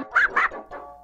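A dog barking close by in a quick run of three high yips, the last one softer and shorter.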